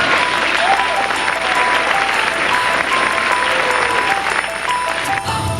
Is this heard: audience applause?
yes